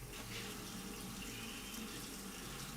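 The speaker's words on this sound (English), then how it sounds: "I just want to get a little bit of warm water into there." Warm water runs steadily from a kitchen tap into a bowl, a continuous broadband rush with no breaks, close and moderately quiet with no talking.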